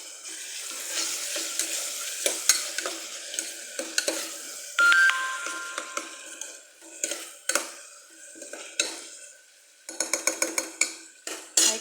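Green chillies and ginger-garlic paste frying in hot oil for a Rayalaseema-style dry mutton curry, a crackling sizzle broken by repeated scraping stirs and clinks of a spatula against the pan, close and fairly loud.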